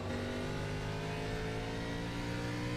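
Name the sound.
race car engine in iRacing video game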